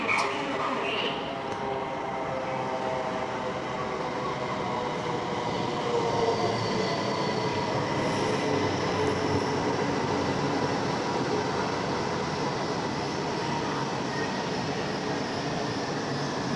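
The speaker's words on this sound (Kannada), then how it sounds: "ರೈಲು ಬರ್ತಾ ಉಂಟು, ಕಾಣ್ತಾ ಉಂಟು." A high-speed bullet train pulls slowly into Mingzhu station, giving a steady, broad rumble of wheels and rail noise throughout, with a faint speaking voice now and then over the continuous roar.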